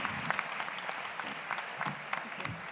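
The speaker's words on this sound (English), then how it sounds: "Big applause for nextgas." An audience at a startup pitching event claps steadily, a dense patter of many hands with no voices on top.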